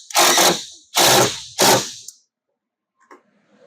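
Three loud, close bursts of a power driver running a tech screw into a Can-Am Maverick R skid plate, each about half a second, then silence with a few faint clicks.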